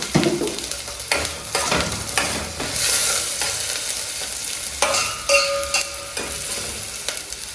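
A spoon stirs steamed cabbage in a hot pan, with several scraping strokes over a soft sizzle, close and fairly loud, and no voices.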